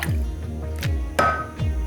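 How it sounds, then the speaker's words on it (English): Rice milk with a little full-fat coconut milk poured into melted chocolate in a pot, giving wet dripping, glugging and squishing sounds in a steady rhythm, close and fairly loud. "we're going to add the rest of the milk, which is mostly rice milk, but also a little bit full fat coconut milk"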